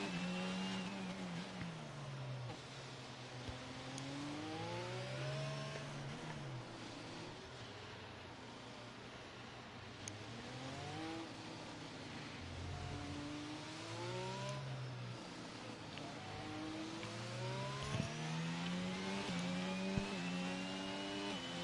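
A race car in a Monaco racing video game runs a hot lap, its engine note rising and falling through repeated upshifts and downshifts, high-pitched and continuous, with brief tire squeal.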